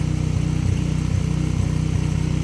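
A snowblower engine running rough and revving uncontrollably, with a steady loud mechanical drone and periodic surges in a pulsing rhythm, close by and with no one speaking.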